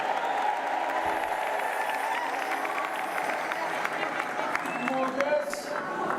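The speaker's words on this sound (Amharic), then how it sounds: "ካመናችሁ እልልታ ጭብጨባ ለጌታ።" A church congregation applauds and ululates during a sermon, with steady dense clapping and crowd noise running throughout and high trilling cries rising over it.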